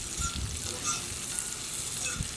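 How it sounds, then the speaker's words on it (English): Food sizzles and fries steadily in a cast iron skillet, a soft, continuous crackle with occasional stirring, heard alone at moderate level outdoors. "Kind of hard to beat cooking in the cast iron skillet there."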